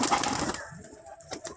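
Released domestic pigeons give a soft cooing call, briefly heard near the mic after a burst of fluttering wing noise at the start, then fading into quieter surroundings.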